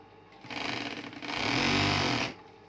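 A Singer sewing machine running an overlock edge along a bedsheet, two close bursts of fast, buzzing mechanical stitching, the second longer and louder, then stopping.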